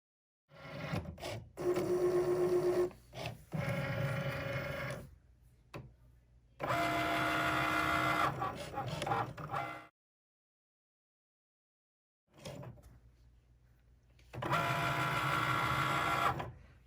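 Cricut cutting machine drawing on card stock with a black pen, near bursts of motor whirring and carriage movement broken by short gaps and one longer pause, with no talking.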